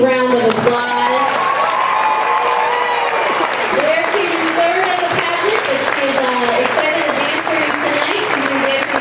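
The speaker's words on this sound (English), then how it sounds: "could you guys please give her a good big round of applause?" Audience applause and cheering for a dancer at a salsa student showcase in Denver, sustained loud clapping across the whole stretch while a voice talks over it through a microphone.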